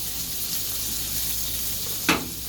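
Mushrooms frying in a pan with a teaspoon of olive oil give a steady, close sizzle throughout, with a brief clatter near the end as they are stirred.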